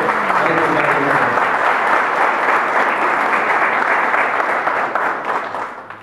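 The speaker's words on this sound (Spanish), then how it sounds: "Un aplauso, por favor, al doctor Byron Cárdenas Cerda." Audience applause for Dr. Byron Cárdenas Cerda at a formal ceremony, a dense, steady clapping that holds loud and continuous throughout, then tapers slightly near the end.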